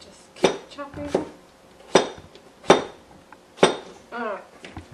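A knife thuds sharply against a cutting board chopping potatoes every second or so, with faint clinks and a few soft voiced sounds between the cuts.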